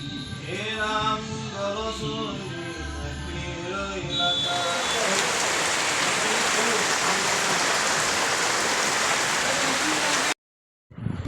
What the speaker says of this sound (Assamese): হঠাতে আহিলে এজাক বতাহ ধুমুহা ডাঙৰকৈ বৰষুণ